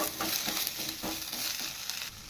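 Poppy seeds, fenugreek leaves and spices fry in a pan for a mutton chops masala, giving a steady close sizzle broken by several soft scraping stirs, with no talking.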